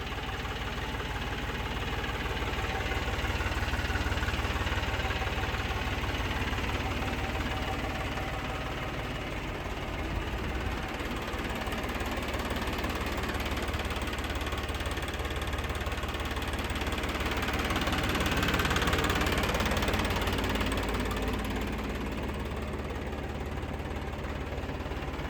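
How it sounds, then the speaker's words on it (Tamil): Kubota B2741S mini tractor engine idling steadily, a continuous close mechanical rumble with a slight knock and no talk over it. "இந்த டிராக்டர் குபோட்டோ"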